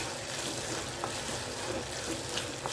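Dried manathakkali berries fry in a pan with a steady, close sizzle and crackle that holds evenly throughout, with no talk.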